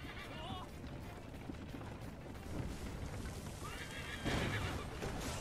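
A horse whinnies in the Assassin's Creed Liberation video game amid a dense, noisy action scene, with players talking in French and water and background game sounds continuing throughout.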